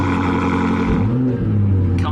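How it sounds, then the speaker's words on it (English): A BMW M5 safety car's engine fires up and settles into a deep, rumbling idle with an aggressive exhaust note. The sound is loud and close, and a brief higher whine comes near the end. "Aggressive, angry sound, which is just what we like with the exhaust system on this car"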